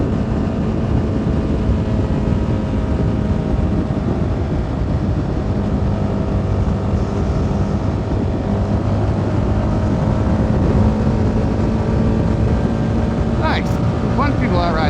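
A CFMoto 300NK motorcycle cruises country roads through small Pennsylvania towns, its engine holding a steady, close drone with constant wind rush throughout, without pauses or shifts.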